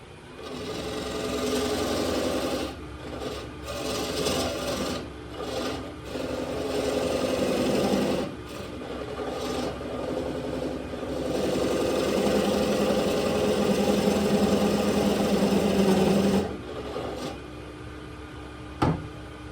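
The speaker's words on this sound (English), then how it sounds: "the piece is still on the lathe" A wood lathe hums steadily while turning a bowl, a continuous mid-pitched motor whir that holds fairly even for a long stretch, with brief dips and a few small knocks near the end.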